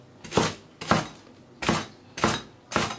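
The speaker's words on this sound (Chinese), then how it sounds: "切点葱" A knife chops scallions on a cutting board while a tripe hot pot dish is being prepared. Five firm, close chops land in a slow, even rhythm.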